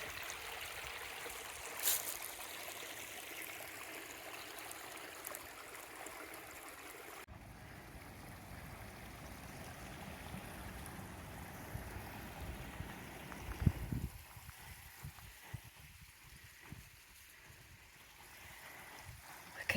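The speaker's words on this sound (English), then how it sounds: "Water's flowing nicely under it." A woodland stream flowing beneath a small footbridge, a steady soft wash of running water with some breezy rustle, heard continuously throughout.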